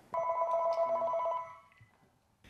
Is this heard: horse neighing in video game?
no